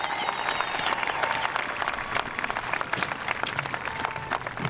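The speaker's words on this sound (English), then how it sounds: "Please give them a round of applause." Crowd at a high school commencement applauding steadily, a dense, loud patter of many hands filling a large space for several seconds, with a faint whistle or cheer early on.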